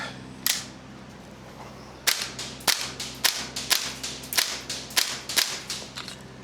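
A Salvo Precision MWS MCX airsoft rifle fed from a Salvo magazine fires about ten crisp, snappy shots, one early single and then a steady rapid string, loud and close with no talk.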